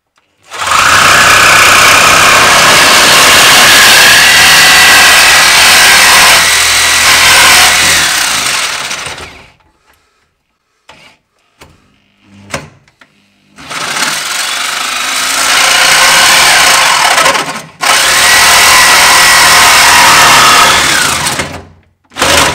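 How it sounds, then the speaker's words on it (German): A power saw cuts off a piece under a BMW E12 525 classic car, a loud, buzzing, reciprocating drone in two long bursts separated by a quiet pause with small clanks, then a brief restart at the end. "Und einfach mal das Stück hier wegsägen"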